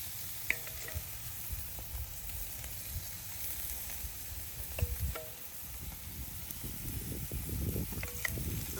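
Salmon and langostino skewers sizzle softly on a grill while being glazed, a quiet steady frying hiss with a few small pops and clinks close by.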